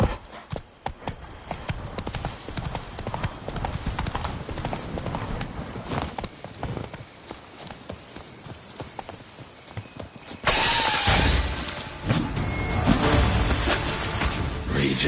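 Hooves of Roach, a horse in The Witcher 3, clip-clop in a fast galloping rhythm, close and loud, over rushing wind and game ambience that swells louder near the end.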